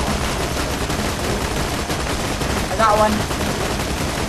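Rapid automatic gunfire from a co-op session of the video game Borderlands 2, a dense steady stream of shots running throughout, with a brief voice speaking near the end.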